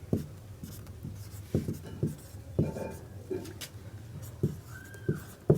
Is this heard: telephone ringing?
no